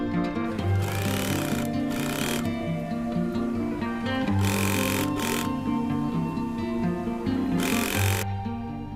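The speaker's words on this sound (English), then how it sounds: "Now we'll have to make 2 stitches over here as well as for the strap." A sewing machine stitches a faux leather bag strap, its steady mechanical whirr running throughout, broken by several short bursts of sharper, brighter clatter.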